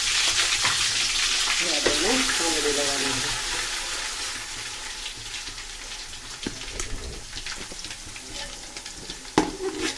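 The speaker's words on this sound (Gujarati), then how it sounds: "આપણે આ રીતના બધી તેલમાં આ પેસ્ટને સાંતળી લેવાની છે." Spice paste sautéing in hot oil for a puffed-rice snack, with a loud frying crackle at first that settles lower, stirring scrapes and clinks, and a person speaking over it.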